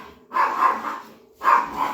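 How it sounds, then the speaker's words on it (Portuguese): Dogs fighting and barking indoors, two bursts of harsh growling barks separated by a brief pause, close and moderately loud with no voices. "Eita, meus cachorros estão brigando."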